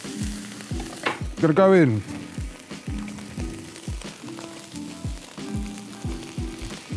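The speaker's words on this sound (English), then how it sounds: "Chili and garlic's not gonna take that long to cook, yeah? So, my garlic is just about to catch on the bottom of the wok." Chili and garlic fry in a hot wok, a close, continuous sizzle with regular scraping stirs throughout, while a person speaks briefly over the cooking early on.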